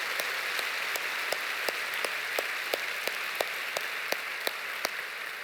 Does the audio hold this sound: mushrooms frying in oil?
no